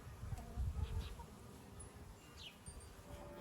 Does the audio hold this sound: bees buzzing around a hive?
yes